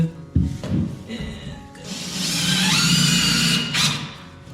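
Power drill driving screws into an interior door frame during installation: a thump and short whir, then a longer, close, high whining drive that ends with a brief final burst.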